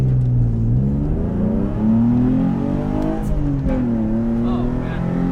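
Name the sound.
Nissan 350Z project car engine revving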